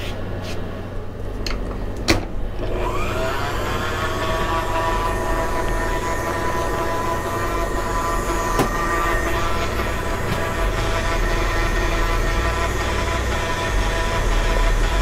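A stand mixer runs steadily with a low motor hum and a constant whir while it beats lemon cupcake batter, with a few clanks and knocks from the bowl and kitchen.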